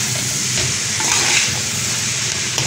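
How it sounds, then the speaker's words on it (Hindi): Chicken cheese noodles stirred in a hot pan, a steady close sizzle with scraping utensil strokes running through the whole short stretch, no talk. "नूडल डाल दिए मैंने, इसको अब ऐसे चला लेंगे हम।"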